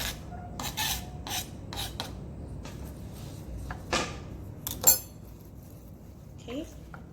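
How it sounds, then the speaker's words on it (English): Hands rub chopped escallion, onion, thyme and seasoning into oxtail for a Jamaican dish, with soft rasping and rubbing, a few clinks of a dish, and brief louder scrapes in a quiet room. "I'm going to be rubbing all my seasoning together"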